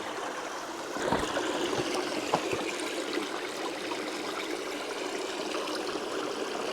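Clear forest stream flowing steadily over mossy rocks, a continuous close rushing and trickling of water with a few brief knocks near the start and no speech.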